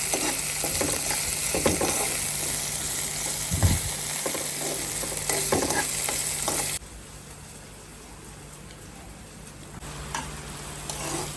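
Batter and curry leaves frying lightly in a pan for a ragi-flour bun dosa, with a close, steady sizzle and a few stirring scrapes that drop sharply to a much quieter hiss partway through.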